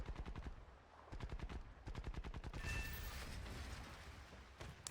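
Machine gun fire in the War Thunder combat game, rapid rhythmic bursts of 7mm rounds rattling off in long strings, loud and close, with a brief whine and rumble midway and no voices.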